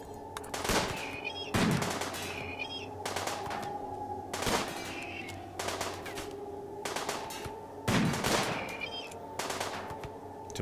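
Repeated bursts of automatic gunfire in the video game RimWorld, loud and rapid volleys recurring every couple of seconds over a steady background hum, with no talking.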